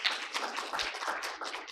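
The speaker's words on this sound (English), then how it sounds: "Can we have a big round of applause for our panelists?" Audience at a panel discussion on women's enterprises applauds the panelists. Steady, dense clapping runs close and fairly loud for the whole short stretch, with no voices over it.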